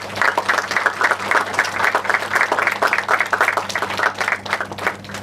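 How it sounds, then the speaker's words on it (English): Audience applause at a university felicitation ceremony in a lecture hall, a steady patter of many hands clapping close by with a low hum underneath, sustained evenly throughout. "A round of applause."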